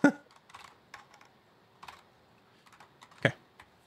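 Quiet typing on a computer keyboard while coding, with scattered clusters of soft keystrokes and pauses between them, plus one sharper key hit near the end.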